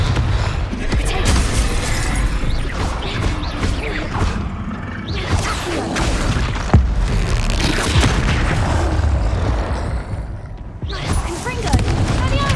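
Repeated Confringo blast spells exploding in Hogwarts Legacy combat, a dense run of booms, crashes and whooshes across the whole stretch, with a voice calling out spell names over the din.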